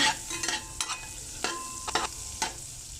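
A spoon scrapes through shrimp and melting butter in a hot pan, several sharp stirring strokes in quick succession over a steady sizzle, close and clear with no talking.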